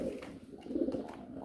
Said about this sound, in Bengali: খুবই চেতা কবুতর